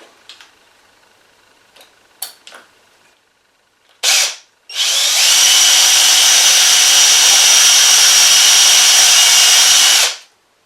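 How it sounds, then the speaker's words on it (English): A few light clicks, then a brief whir and a loud, steady high-pitched 3mm drill running continuously for about five seconds before stopping, drilling out the rivet posts on a Dinky Toys Blaw Knox bulldozer 561 die-cast model. "I'm going to use a 3mm drill to drill out the rivet posts on this"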